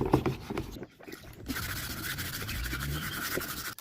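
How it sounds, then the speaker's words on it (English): Steady scrubbing on the rear bumper of a 1995 Toyota RAV4 being prepared for paint, a close, continuous rasping rub with short uneven strokes at first, then a sustained even scouring texture with no talk. "Give this a really good scrub because we're going to paint it too."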